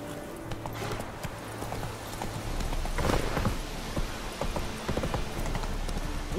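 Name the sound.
Geralt's horse Roach trotting, from video game The Witcher 3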